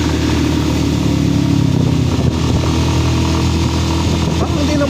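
A motorcycle labors uphill on a group charity ride along Marilaque, its engine holding a loud, strained, continuous drone close by with little change in pitch.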